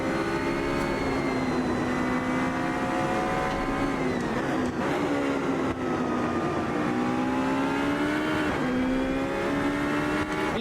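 A race car engine in a sim racing game drones loud and steady throughout, its pitch rising through the gears with a few brief dips at the shifts. No talk is heard over it.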